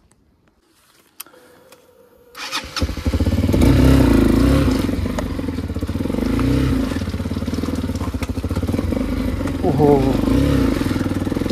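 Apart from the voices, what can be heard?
motorcycle engine revving while stuck in mud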